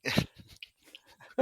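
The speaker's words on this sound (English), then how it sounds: "That was a dog barking in the background." A dog barks somewhere in the background, a few short, muffled yips and breaths, faint and distant behind a quiet room.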